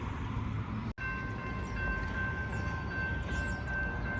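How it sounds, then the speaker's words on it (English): A southbound freight train of 272 axles rolls past on the nearest track of the Indiana & Ohio Railway, a loud, steady rumble of wheels and cars with faint horn-like tones, close and continuous. "we got a train coming with 272 axles on track 2"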